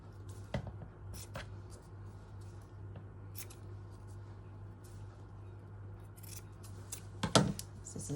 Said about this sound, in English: Scissors need a good sharpen.